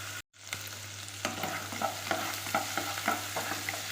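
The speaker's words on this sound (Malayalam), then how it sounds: "ഇതിൻ്റെ മണം മാറുന്നവരൊന്ന് വഴറ്റിയിട്ട് കൊടുക്കും." Masala paste for prawn biryani sautés in a hot pan, a steady close sizzle with soft scraping stirs repeating every half second or so, after a brief silent break at the start.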